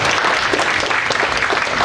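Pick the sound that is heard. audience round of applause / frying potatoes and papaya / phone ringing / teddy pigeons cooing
audience round of applause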